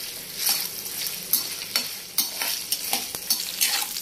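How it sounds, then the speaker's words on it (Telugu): Chopped ginger fries in a little oil in a pan, a soft steady sizzle with quick scraping stirs of a spoon every half second or so, close and alone without any voices. "అల్లం కూడా ఈ విధంగా ఆయిల్లో వేయించుకోవాలి"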